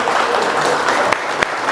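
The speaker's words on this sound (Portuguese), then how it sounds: "uma salva de palmas para vocês" Audience applauding at a workplace safety talk, steady dense clapping throughout with a couple of sharper claps standing out, loud and close.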